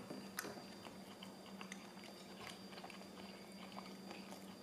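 Soft, close chewing of a bite of homemade fried tofu pad thai in sauce, faint wet mouth sounds and small bites repeating quietly under low background hiss.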